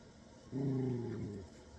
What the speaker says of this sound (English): I know she's growling because I'm getting a little animated, I guess.